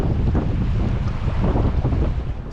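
Strong wind buffeting the microphone beside a limestone stream, a loud, continuous low rumble that gusts throughout with no voices.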